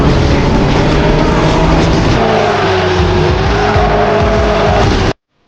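Race cars in the mobile racing game Ace Racer roar at high revs with loud squealing tires and skids, a dense, continuous engine whine that shifts pitch midway and then cuts off abruptly into silence.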